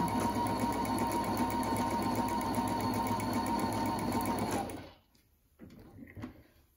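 Husqvarna 230 Electronic sewing machine stitching a fence-like pattern, a steady close whirring motor with rapid needle ticks that stops abruptly near the end, leaving near silence and a few faint handling noises.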